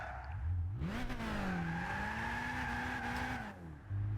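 Slow car in Gran Turismo 6 kicked into a handbrake drift, engine note rising sharply then holding a strained pitch as the tires squeal, then easing off near the end.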